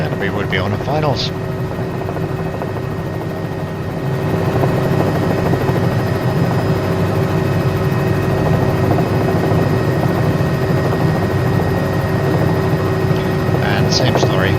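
Continuous drone of a flight-simulator helicopter, rumbling rotor and engine under a steady whine, rising in loudness about four seconds in and staying constant, with brief chirps at the start and end.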